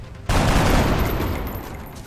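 A burst of gunfire from the tactical strategy game XCOM Long War erupts suddenly and loud, a dense volley of shots that rings out and slowly fades over two seconds.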